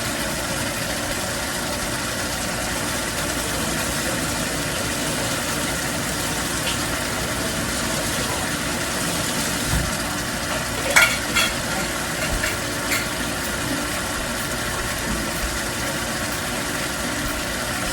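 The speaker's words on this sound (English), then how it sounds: "I'm going to let this saute a little bit" Pasta sauce sautéing in a pan gives a steady, even sizzle that continues throughout, with a few faint clinks and knocks near the middle.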